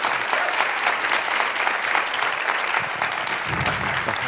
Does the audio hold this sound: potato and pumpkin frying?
no